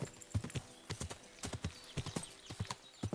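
In Kingdom Come: Deliverance II, a horse walks a road with steady, close clip-clopping hooves, a continuous rhythmic patter of sharp strikes at a moderate walking pace.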